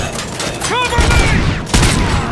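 Rapid gunfire in the video game RoboCop Rogue City: a loud, dense fusillade of close shots running throughout, with a sweeping whine in the middle, under shouted voices.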